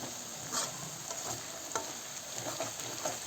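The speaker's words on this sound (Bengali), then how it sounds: "তলা যাতে না লেগে যায় একটু নাড়াচাড়া করে নিচ্ছি" Food stirred in a hot frying pan sizzles steadily, with soft scraping strokes from the stirring breaking through at irregular moments, close and at moderate level with no talking.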